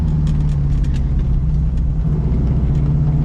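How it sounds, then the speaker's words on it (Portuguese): A Gurgel XEF compact car from 1983 drives along with its small engine running steadily, a loud continuous low hum and drone filling the cabin without pause and with no speech. "E como rende bem esse motorzinho nesse carro."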